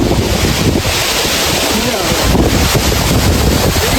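Spray blown off the Vasudhara waterfall in Uttarakhand, heard as loud, steady, roaring broadband rush with wind buffeting the microphone throughout, no speech.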